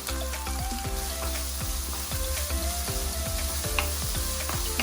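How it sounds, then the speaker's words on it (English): Beans, carrot and capsicum sizzle steadily in hot oil, with repeated scraping and clanking of a spatula against the pan in an uneven rhythm, close and loud with no talking. "Saute it well in the oil."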